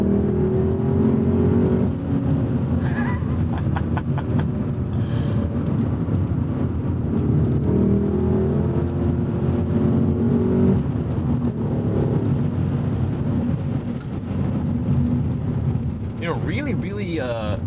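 A 2002 BMW M5 E39 V8 engine revs and pulls hard under acceleration, a loud, deep, continuous drone with rising and falling pitch heard from inside the car, broken by brief higher-pitched sounds near the end.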